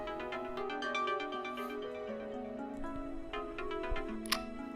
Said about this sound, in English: By holding the center button, your phone will give off an alarm until you stop it